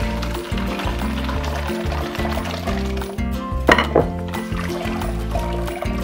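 Soaking water poured off beans being washed to float away their skins for shrimp garlic akara, a short splashy pour near the middle over steady background music.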